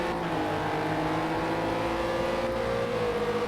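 A Renault R.S. 01 race car in Project CARS runs down the back straight of the Le Mans Bugatti Circuit. Its engine holds a continuous, steady high-revving drone throughout.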